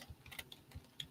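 Typing on a computer keyboard, with a few faint, quick key clicks spaced unevenly and heard alone at low volume.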